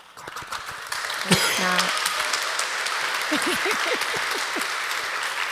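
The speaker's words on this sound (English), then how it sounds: "I almost stepped on your applause" An interview audience breaks into sustained applause, a dense wash of clapping that rises after a brief quieter opening, with a short mechanical clicking burst and a voice briefly cutting in over it.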